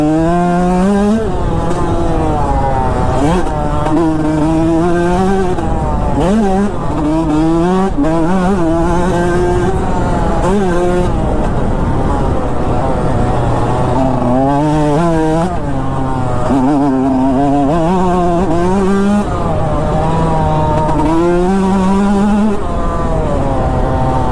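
Dirt bike engine held at high revs while riding, a loud, close, continuous buzzing roar that rises and falls in pitch as the throttle is worked, with constant wind rush.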